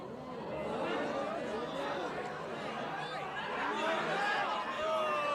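A sumo tournament crowd in an animated series murmuring and chattering, a steady dense hubbub of many voices with scattered laughter, moderately loud throughout.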